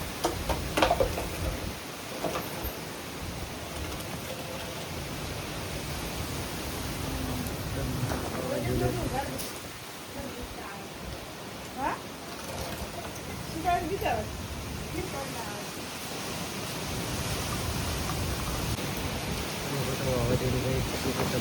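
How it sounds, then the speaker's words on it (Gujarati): Heavy rain pouring during a storm with strong wind, a continuous broadband hiss throughout with gusty swells and occasional rumbles; voices talk intermittently over it. "વરસાદ ચાલુ થઈ ગયો છે"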